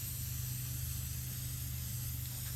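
Cocoa bean spray paint hisses steadily from an aerosol can onto an accent table, one continuous close hiss with a low hum underneath and no pauses.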